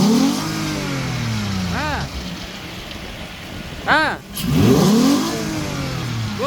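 A 3.3-litre V6 petrol engine fitted in a GAZ Gazelle van revs up in a workshop, with several loud swelling throttle blips that fall back to idle between them. A short spoken word comes in near the end.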